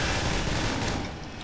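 A shotgun firing in the Half-Life 2 mod 1187: a brief, dense burst of loud blasts that fills the short moment and fades slightly at the end.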